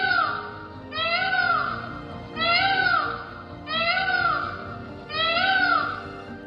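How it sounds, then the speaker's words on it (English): A peacock gives four loud, rising-and-falling wailing calls, each about a second long, in a steady rhythm with short gaps, close by and alone against a faint background. "Peacocks do have a very distinctive call."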